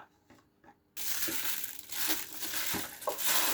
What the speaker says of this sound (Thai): เราเอาถุงพลาสติกใส่เข้าไป